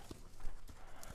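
Hooves of a green horse clip-clop at a walk while it is worked through half circles, a few soft, fairly distant footfalls spaced at an uneven rhythm over a quiet outdoor background.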